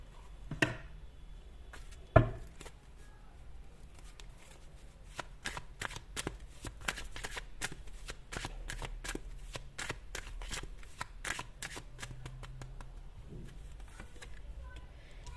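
A deck of tarot cards being shuffled, with two sharp knocks near the start and then a steady run of crisp riffling snaps, close and fairly quiet, with no talking.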